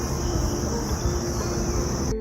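Bees buzz up close in a steady, high, droning hum with a low undertone, continuous for about two seconds before cutting off abruptly.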